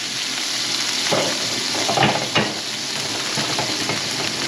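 Elk burgers fry in melted butter in a pan, with a close, constant crackling sizzle and a few sharper pops and spatters.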